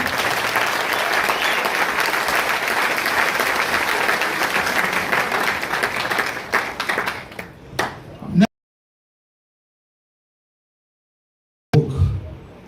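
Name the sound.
crowd applause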